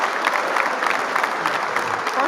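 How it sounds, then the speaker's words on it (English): Hands clap in quick, close bursts of applause-like smacks, fairly loud and continuous over the short span, with a voice faintly present beneath. "Give me some hand claps too."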